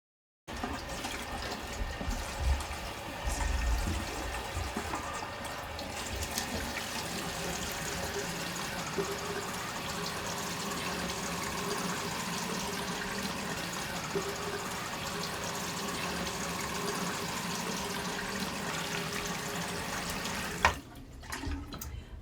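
Water runs steadily from a tap for about twenty seconds while hair is being wetted, a constant close splashing wash with no talking, ending abruptly.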